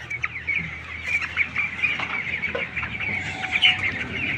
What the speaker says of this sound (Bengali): আমার ঘরে মোট মুরগির সংখ্যা হইলো 1200